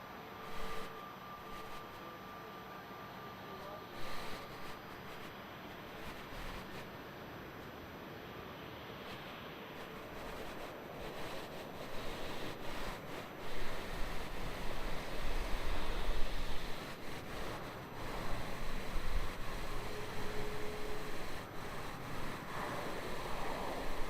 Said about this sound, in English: Alright, just 976 here, heading to Perth. Rolling on runway 34.